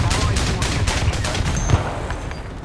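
Tank guns fire in the War Thunder video game, producing a dense, loud, rapid volley of gunshots throughout, with a voice faintly present under the firing.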